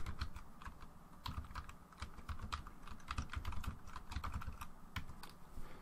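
Rapid, close keystrokes on a computer keyboard type a software remove command in a Linux terminal, a steady irregular patter of light clicks with no talking.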